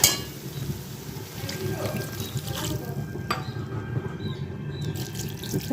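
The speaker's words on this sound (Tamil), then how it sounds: "இப்போ இதில் நம்ம தண்ணி சேர்த்துக்கிறோம்." Water splashes and trickles into a pan of chicken pepper fry, with faint clinks of metal and a soft background hum, fairly quiet and close.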